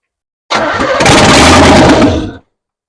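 A 350-powered third-gen car's engine cranks with a loud whirring churn, then catches and roars briefly before cutting off abruptly.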